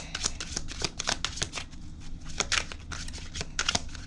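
Tarot cards are shuffled and drawn during a chakra reading, with close, rapid papery flicks and snaps in an uneven rhythm and no talking over them.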